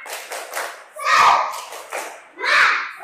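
Schoolchildren in a classroom doing a spirited clapping chant led by their teacher, with bursts of young voices and claps rising in two loud surges amid lighter chatter.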